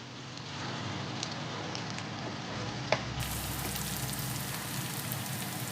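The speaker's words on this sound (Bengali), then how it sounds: "এটা এইভাবে এদিকেই ভাজা হবে" Two teaspoons of chopped onion frying at the side of a pan for a cauliflower and rui fish curry, a steady crackling sizzle close up with one brief sharp pop, no voices.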